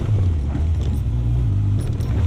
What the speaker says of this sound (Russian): Да, громковато, конечно, он работает с этим глушителем.